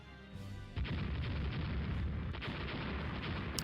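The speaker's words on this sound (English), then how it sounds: "I'm firing at them." Naval guns firing in the Rule The Waves strategy game, a dense, sustained wall of rumbling low booms and crackling bursts that jumps louder partway through and keeps rolling without pause, with no voices.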